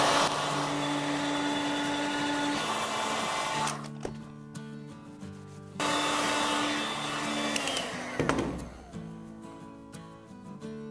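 A handheld hair dryer blows hot air onto the edge banding of a kitchen-countertop dining table to melt the glue. It gives a steady whirring hum that cuts off twice and starts again, with handling noises in the gaps.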